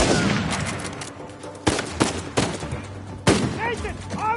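Gunfire in the Uncharted 4 video game, with a sniper shooting: a burst of rapid shots followed by several sharp, loud cracks spaced about a second apart, mixed with in-game voices shouting.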